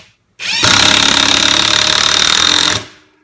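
A Mensela 18V cordless impact wrench drives a 2-inch screw, a loud, close, steady buzzing rattle that starts abruptly, holds for about two seconds and then cuts off.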